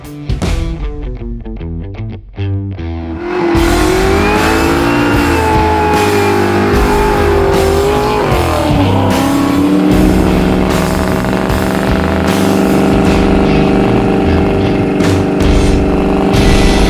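A 1971 Ford Mustang fastback with a 331 stroker engine and manual transmission starts with choppy low pulses, then revs up loud and raspy, rising and falling before settling into a steady, rumbling idle close by.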